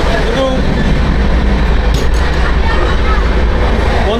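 Amrit Bharat Express train running at full speed between Dankuni and NJP, a steady loud rumble and rattle heard from inside the carriage, continuous throughout with no clear talk.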